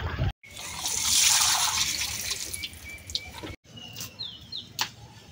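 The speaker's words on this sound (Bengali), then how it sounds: "আমি ওখানে থুরগিলা ধুইতেছি" Banana stem pieces washed in water, a steady close splashing and trickling that breaks off briefly, with faint chirps of birds outdoors.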